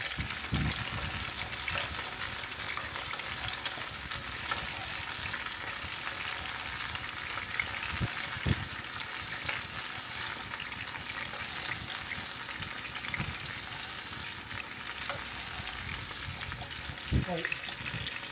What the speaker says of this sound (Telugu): సో మీడియం టైంలో ఫ్రై చేసేసుకొని ఈ ఆయిల్ నేను వేసుకుంటా కొంచెం